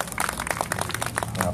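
Clapping from an audience honouring the chairman at a Thai folk likay performance, a short run of scattered, fairly close handclaps with a voice speaking faintly underneath.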